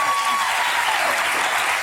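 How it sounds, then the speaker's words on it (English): Studio audience applause on a daytime talk show, dense loud clapping that holds steady for about two seconds. "give them a little applause here."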